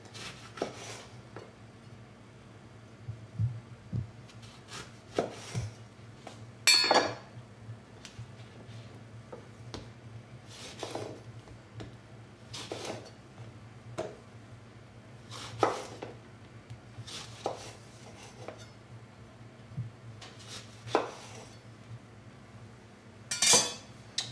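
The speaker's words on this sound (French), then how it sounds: "Et vous allez couper voilà, des tranches d'à peu près 1 cm." Knife slicing food into slices about 1 cm thick on a cutting board while preparing a roast chicken with thyme and lemon: a quiet, evenly spaced series of sharp taps and clicks, heard alone.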